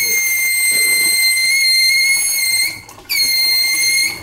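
Kitchen faucet running hot water gives off a loud, steady high-pitched whistle that drops out for a moment and then returns just as strongly.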